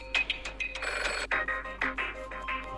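Telephone bell ringing in a televised game show as the banker calls, a loud bright ring in repeated bursts with brief gaps, heard alone with no talk.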